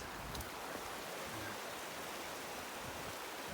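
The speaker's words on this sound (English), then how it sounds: "Two little rivers meeting there." Two small rivers, one of them the River Dean, meet and flow together, making a steady, faint rushing of water with no talk.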